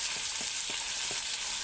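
Potatoes fry in a pan with salt and turmeric, giving a steady, close hiss with a few soft scraping stirs at a slow, even rhythm; no voices.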